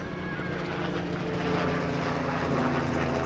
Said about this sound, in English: Helicopter going over above.